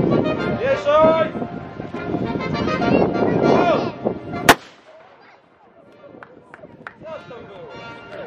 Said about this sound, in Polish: pierwsze wystrzały takie jakieś nieśmiałe, że tak powiem